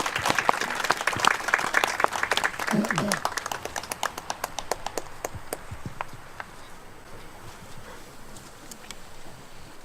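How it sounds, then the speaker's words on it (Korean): Applause at an outdoor memorial ceremony, warm clapping from a crowd that starts strong and gradually thins out to a few scattered claps, with some speech mixed in. "뜨거운 박수 좀 부탁드리겠습니다."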